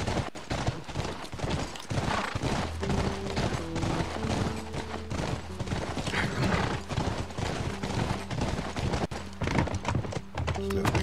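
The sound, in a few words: horse hooves clip-clopping, from The Last of Us video game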